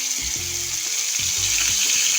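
Grated garlic and onion paste sizzle steadily in a hot pan of oil, a bright continuous frying hiss with soft low knocks of a spoon stirring underneath, close and alone.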